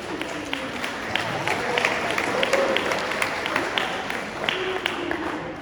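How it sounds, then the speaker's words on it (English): A crowd at an evening community event applauds in a dense, steady wash of clapping with scattered sharper claps, sustained at a moderate level for several seconds. "Y'all give another round of applause for them, guys."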